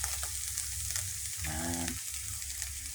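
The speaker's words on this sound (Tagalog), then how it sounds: "Ito po ay ating papupulain sa pamagitan ng pagprito natin. Pagprito natin ng mantika." Ground meat fries in cooking oil in a pan, a steady close sizzle with crackling throughout and a brief stir partway through, with no talking.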